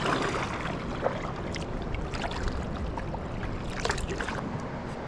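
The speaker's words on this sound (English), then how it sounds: "I can hear the waterfall." A waterfall near a beach camp in Alaska gives a steady, unbroken rushing roar of falling water, moderately distant and filling the whole moment with no voices.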